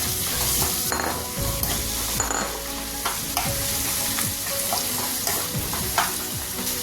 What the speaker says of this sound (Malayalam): അതിലേക്ക് നമുക്ക് തക്കാളി ഇട്ട് കൊടുക്കാം